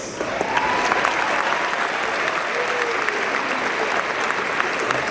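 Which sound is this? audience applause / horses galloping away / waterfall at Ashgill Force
audience applause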